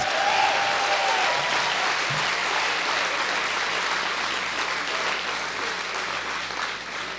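Sustained audience applause at an evening dinner gathering, a dense wash of many hands clapping steadily for several seconds and slowly easing off, with no speech over it.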